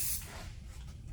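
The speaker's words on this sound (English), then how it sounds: "All you do, spray it around the bead" Honda Polish & Cleaner is sprayed around a tire bead in a short, close hissing burst that quickly fades into quiet.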